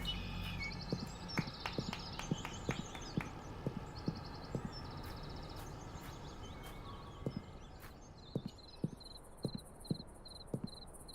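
Horse hooves clip-clop in a steady, unhurried rhythm close by in the video game Black Mirror II, with insects chirring and high whistly bird calls in the background.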